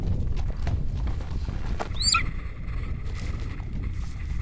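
A hunter's horse moves over snow in the Altai mountains of Mongolia, its hooves thudding in a soft, muffled rhythm under a low outdoor rumble, with a faint higher cry near the middle.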